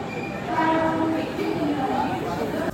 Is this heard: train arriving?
yes